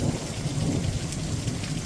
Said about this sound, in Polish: Taka burza od południa przyszła.